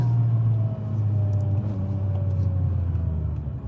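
Acura NSX sports car engine droning steadily while driving, a loud, close, continuous low rumble with a faint rising whine, holding a constant level throughout with no talking.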